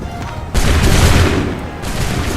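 Musket volley gunfire crashes out on a battlefield in Assassin's Creed III, a loud, booming burst of many shots fired together, then rolling, sustained crackle that fades and swells.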